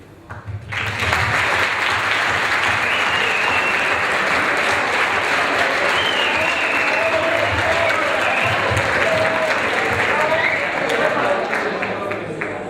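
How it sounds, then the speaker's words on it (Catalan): An audience applauds steadily and loudly for about twelve seconds at a literary talk, the dense clapping filling the room with a few voices murmuring underneath. "jo crec que et mereixes un aplaudiment de tot el públic."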